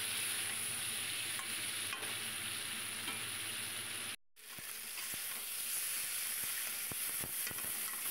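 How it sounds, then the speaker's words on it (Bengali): Eggplant and potatoes frying in a pan while being stirred, steady close sizzle with scraping strokes, a brief dropout midway, then frying and stirring continue with sharper clicks. "ওপর থেকে এবার বেগুনগুলো দিয়ে দিচ্ছি। বেগুন দিয়ে আরেকটু নেড়ে চেড়ে নেব।"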